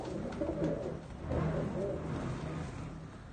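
A punu wali breed pigeon coos softly in a loft in the Malwa region of Punjab, with a few low, rolling calls heard close but quiet over a faint background hum.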